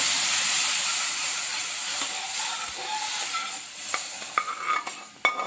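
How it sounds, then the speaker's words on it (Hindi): Lentils of a moong and masoor dal are added to a pan of golden fried garlic, setting off a steady loud sizzle and hiss, with a few sharp utensil clinks toward the end. "अब इसी में से कुछ दाल हम पैन में डाल कर दोबारा से उसमें डालेंगे।"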